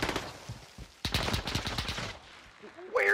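Gunfire in Call of Duty Modern Warfare during a 3v3 Gunfight match: a rapid burst of close, loud automatic shots in the middle, with scattered single shots before it and a brief sharper noise at the end.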